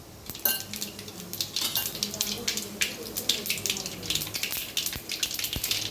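Mustard seeds and cumin crackling in hot oil in a pan for lemon rice, heard as scattered sharp pops and sizzle with clinking of utensils against the pan throughout.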